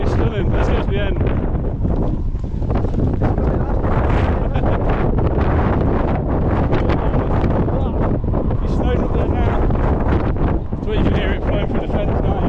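Strong wind buffets the microphone on a mountain near Snowdon, a loud, continuous roaring rush with gusty swells, while voices talk faintly beneath it.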